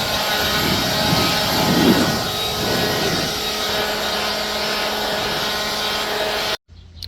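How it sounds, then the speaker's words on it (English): A loud, steady blowing roar from a leaf blower clearing dust off a wooden deck runs continuously for several seconds close by, then cuts off abruptly near the end. "next step will be to get the leaf blower on it and get rid of all the dust and stuff"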